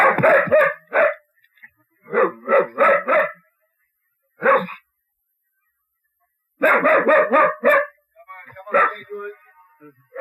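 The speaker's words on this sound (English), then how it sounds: "a doorman talking to a barking dog locked in a car" Dog locked in a car, barking in quick clustered bursts of three or four with pauses between, fairly close and loud, with a few softer vocal sounds near the end.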